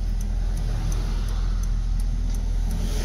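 A Lancia Fulvia engine drones steadily from inside the cabin, a low continuous rumble with road noise and a faint periodic ticking.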